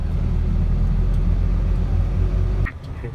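A car driving through congested city traffic, heard from inside as a loud, steady engine and road rumble that drops off abruptly near the end.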